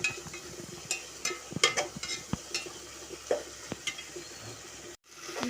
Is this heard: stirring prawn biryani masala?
yes